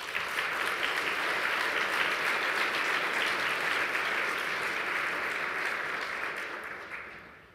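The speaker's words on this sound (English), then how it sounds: "Please join me in a round of applause for these outstanding students." An audience at a mathematics conference applauds outstanding students with sustained, even clapping that holds for several seconds before fading out at the end.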